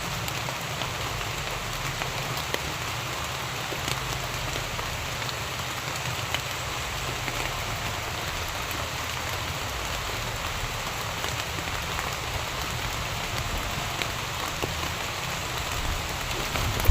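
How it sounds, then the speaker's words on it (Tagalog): Heavy rain pours down steadily and evenly, a dense, close wash of drops drumming on surfaces with no let-up and no voices. "Lakas na ulan"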